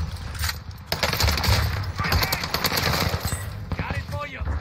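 A CW MP5 submachine gun fires in Warzone in quick, close automatic bursts, a steady rattling stream broken by brief pauses, with a voice speaking over the shooting.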